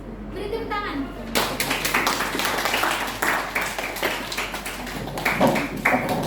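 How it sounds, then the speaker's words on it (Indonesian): Classroom applause for a presentation in a school lesson: a short bit of voices, then a burst of many hands clapping together, sustained and irregular for several seconds, with a brief lull before a final swell. "Beri tepuk tangan."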